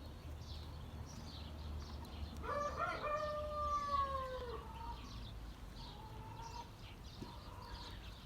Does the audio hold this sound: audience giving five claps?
no